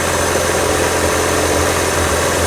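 A 1996-2000 Honda Integra idles steadily and close by while its freshly recharged AC compressor cycles. The engine makes a constant low hum with no clear break or change, and no one speaks.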